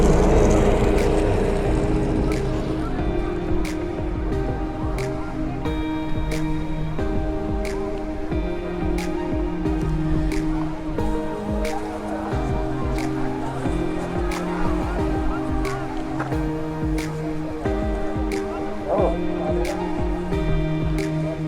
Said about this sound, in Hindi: तो ये देखो स्नो स्कूटर।